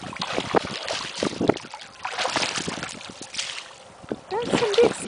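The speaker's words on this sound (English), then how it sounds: "That's some big splashing, Brucey." A seven-week-old puppy named Brucey splashes while swimming in a backyard pool, with choppy bursts of water and wind noise buffeting the microphone outdoors, close and irregular, and a voice talks faintly at times.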